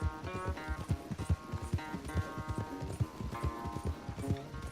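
Horse hooves pound in a fast, rhythmic gallop during a race in Red Dead Redemption 2, close and steady with music or game sounds beneath, and no speech.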